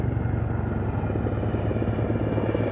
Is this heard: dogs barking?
no